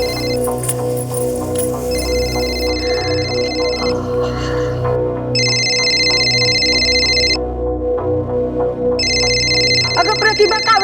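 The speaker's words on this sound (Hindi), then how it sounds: "बघा कुणाचा फोन आहे." A phone rings in repeated electronic bursts, each about two seconds long with short gaps between them, loud over a low background hum.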